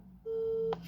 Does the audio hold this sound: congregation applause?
no